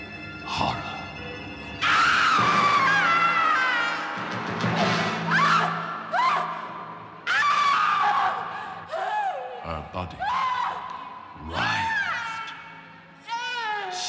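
A woman screams in torment in a Dracula film drama. Several long, piercing, wavering shrieks are loud and close, with bursts of turbulent noise and other voices in between.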